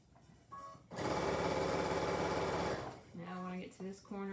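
A sewing machine runs a quarter-inch seam on fabric, a close, loud, steady buzzing whir lasting about two seconds, with a person talking before and after.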